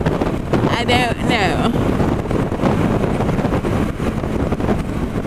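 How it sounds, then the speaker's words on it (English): Heavy wind buffeting the microphone while riding a Honda CB300F motorcycle on a busy city freeway, a loud, steady rushing roar throughout, with a person talking briefly under it. "And it's really windy."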